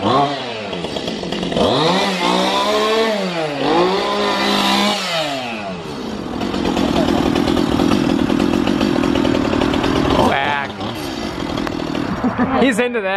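A real chainsaw at a Halloween scare prank revs loudly in rising and falling bursts, then settles into a steady, buzzing idle before revving again, close and prominent, with people talking over it.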